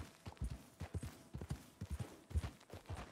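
Horse hooves trotting in the Red Dead Redemption II video game, a steady, close clip-clop rhythm of repeated hoof strikes with no talking.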